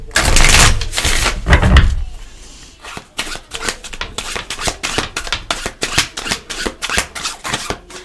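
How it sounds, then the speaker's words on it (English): Deck of tarot cards shuffled close up: a loud riffling burst at first, then a steady run of crisp, rhythmic card flicks and slaps, with no talk over it. "I love the sound of these cards when they shuffle."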